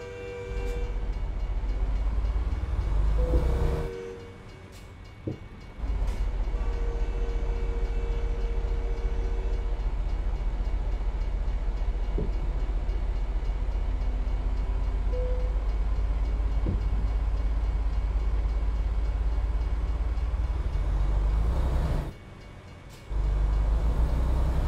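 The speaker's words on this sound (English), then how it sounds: "Oh, it's the train. It's always the train." A train rolls past in the American Truck Simulator driving game, its steady low rumble and clatter filling the scene with a few brief sharp clanks and short dips, no voices heard.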